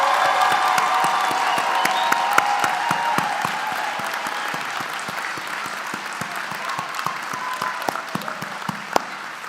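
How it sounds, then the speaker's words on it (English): A crowd at a college commencement ceremony applauds the graduates with loud, steady clapping that fills the hall. Scattered cheers rise over it, and it eases slightly toward the end. "Let's give them one heck of a round of applause."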